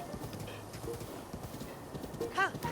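Horse hooves clip-clop at a steady trot in The Legend of Zelda: Breath of the Wild, a soft repeating patter under game ambience, with a brief whinny near the end and someone talking.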